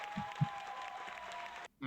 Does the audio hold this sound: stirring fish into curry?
no